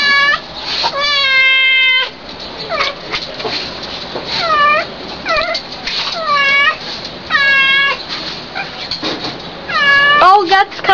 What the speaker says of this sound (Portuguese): Olha o gato escalando a porta!